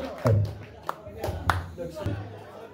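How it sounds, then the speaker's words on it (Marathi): Scattered claps at a village Dussehra lottery draw, greeting the three village presidents: a few separate, fairly close hand claps rather than a full burst of applause, with voices in the background. "एकदा जोरदार टाळ्या होत्या आमच्या 3 अध्यक्षांसाठी"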